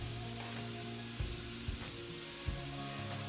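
Caramelized ground turkey sizzles steadily in a hot pan while being stirred, with a few soft scraping bumps of the utensil under the continuous frying hiss.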